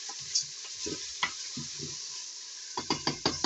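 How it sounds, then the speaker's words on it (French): Frozen onions are stirred in a Cookeo multicooker, giving scraping, knocking strokes over a steady sizzle, with a quick run of sharper clatters at the end. "je mets mes oignons surgelés, je tourne bien"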